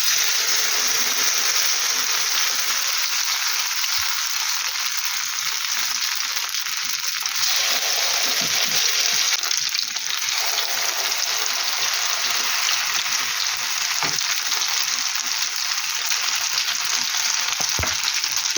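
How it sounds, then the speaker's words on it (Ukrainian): Potato pancakes (deruny) fry in oil in a pan, giving a loud, steady bubbling sizzle throughout with a few small clicks and scrapes. "І так далі буду ставити, смажитися."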